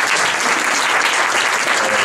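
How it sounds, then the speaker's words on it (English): An indoor audience at a tech meetup gives the event sponsors a round of applause, dense and sustained clapping throughout. "Give them a round of applause, everybody."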